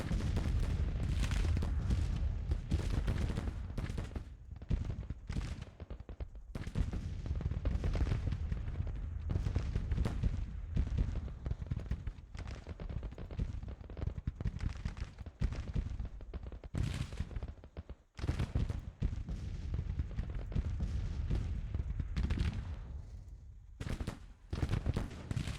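Dense, continuous gunfire from a Civil War battle in the strategy game Grand Tactician: The Civil War, with overlapping volleys and booming shots rolling on without pause.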